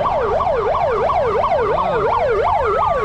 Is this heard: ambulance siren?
yes